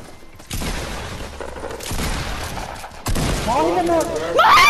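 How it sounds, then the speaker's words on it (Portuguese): Rapid bursts of gunfire in a video game fill most of the clip, loud and dense, with a rising tonal effect near the end. "sério que eles dão tiro, Giovanni?"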